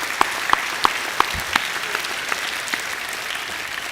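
An audience at a college assembly applauds a senior music class. The clapping is dense and continuous, with a few louder individual claps standing out near the start. No one speaks.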